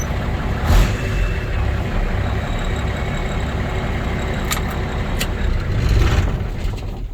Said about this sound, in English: See how quick she fires up.